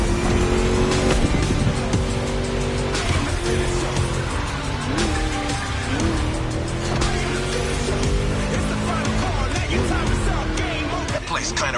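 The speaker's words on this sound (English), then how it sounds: "Just listen to that V8 like a chunky, down-tuned guitar riff" A V8 race car engine in The Crew Motorfest roars steadily at high revs through a lap, with rising and falling pitch as it shifts and tires squeal, loud and continuous under a talking voice.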